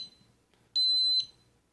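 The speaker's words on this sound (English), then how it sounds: "beeps a couple of times, push up on the throttle, one beep, push down, the other beep" Cheerson CX-10 nano drone emitting a single steady high-pitched beep of about half a second while binding to its controller, close and clear against a quiet room.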